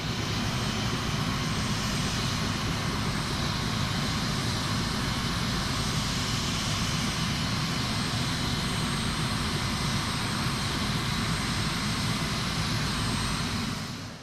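A Bell 206 LongRanger helicopter heard from the cabin in flight, with a loud, steady, unbroken engine and rotor roar throughout and no talk.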